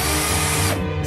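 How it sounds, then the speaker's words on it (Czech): A power drill drives a screw into a board to build a bed, giving a steady, close whirring buzz that shifts and eases off near the end. "A ty to přivrtej."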